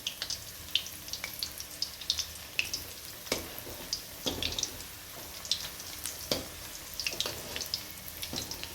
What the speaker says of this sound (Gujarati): તેલ ગરમ થઈ ગયું છે, તો આપણે